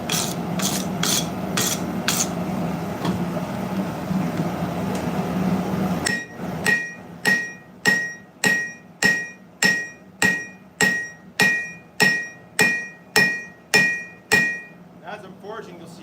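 A blacksmith hammers hot steel while forging a steak flipper: a rough scraping stretch, then a run of about a dozen loud, evenly spaced ringing hammer blows, close by.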